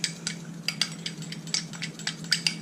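Utensil scraping and tapping against a bowl while German mustard is mixed into a salmon burger mixture, a run of quick irregular clinks over a steady low hum, close and fairly quiet.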